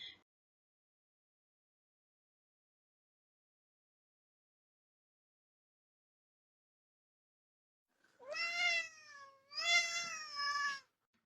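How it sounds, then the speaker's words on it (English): A cat gives two drawn-out meows, close and clear, after a long stretch of silence. "This is cat sound."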